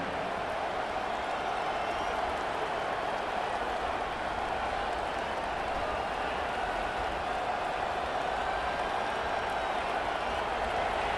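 A simulated stadium crowd in an American college football video game, Texas Longhorns at Michigan Wolverines, roars as a steady, dense wash of cheering and noise behind the defense in the red zone, with no talk over it.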